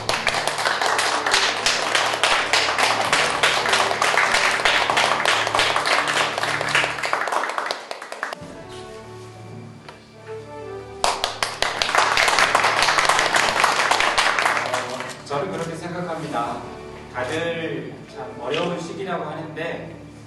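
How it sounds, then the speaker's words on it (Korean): An audience at a union chapter launch ceremony gives two bursts of dense clapping separated by a quieter gap, then the applause fades into speech from a microphone. "큰 박수 부탁드릴게요"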